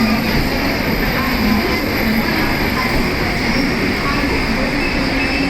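A Jan Shatabdi Express train from Madgaon to Chhatrapati Shivaji Maharaj Terminus running through Dadar station, a loud, steady rumble and roar of wheels on rails filling the whole stretch with no break.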